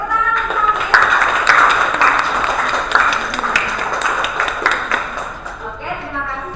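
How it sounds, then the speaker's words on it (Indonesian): Classmates in a classroom clap for a student, a moderately loud patter of many hands that fades toward the end, with a voice speaking over it. "tepuk tangan untuk Sangkin"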